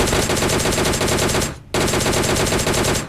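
Rapid automatic gunfire from PUBG Mobile Lite bursts in a dense, loud, evenly spaced stream, stops for a split second, then resumes just as fast and close.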